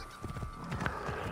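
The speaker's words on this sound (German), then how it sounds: "Da ist Pferdchen, da." Horse hooves clopping with a brief whinny in the video game Assassin's Creed Origins, a short burst of rhythmic steps close by at moderate volume.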